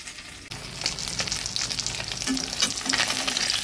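Pabda fish frying in hot oil in a kadai, a continuous crackling sizzle with bursts of spitting pops, rising after a brief quieter start and carrying on steadily, with no voices.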